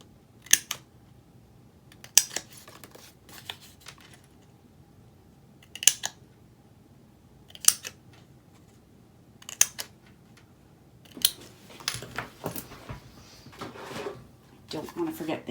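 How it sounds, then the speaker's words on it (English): Paper pieces cut along a 1/2 inch score line with scissors: crisp, separate snips come every second or two, several at close range, then quicker clustered cuts toward the end, with some talk nearby. "we are going to cut each one of these just to that 1/2 inch score line."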